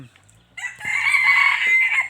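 A single young decoy rooster crows nearby, one loud, drawn-out call after a brief quiet moment.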